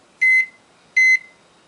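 A microwave oven emits two short, clear electronic beeps about three quarters of a second apart as its cook time is keyed in, each tone bright and close against a quiet room.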